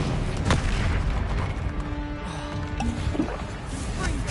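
Fiery spell blasts from Confringo and Incendio in Hogwarts Legacy, heavy booming bursts with a loud hit early on and further rumbling impacts, mixed with voices and game sounds.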